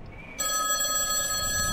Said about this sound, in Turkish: Telefonu çalıyor lan bir yerlerde.